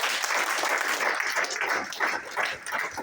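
Dense, continuous applause from an audience at a pastor's 40th birthday celebration, many hands clapping at once, loud and close throughout.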